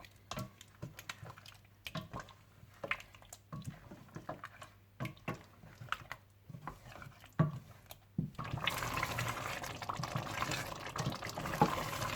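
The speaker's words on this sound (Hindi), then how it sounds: "अब आप इसमें इतना पानी डाल लीजिए कि जिसमें गोश्त अच्छा सा गल जाए" Water is poured into mutton korma in a cooking pot: after soft sizzling and clinks, a steady, fairly loud rush of liquid fills the last few seconds, with no talking.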